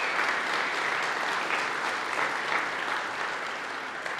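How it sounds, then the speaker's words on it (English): An audience at a Veterans Day gathering gives President Carter a steady round of applause, a dense, even wash of many hands clapping that holds at moderate loudness throughout. "Can we have another round of applause for President Carter?"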